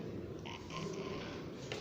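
A two-year-old pet dog in Chile gives close, low snorting and growling sounds that run steadily for about two seconds, with no talking.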